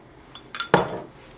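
A spoon clinks against a bowl while stirring a mixture, a few light taps followed by one sharper metallic knock, close and otherwise quiet.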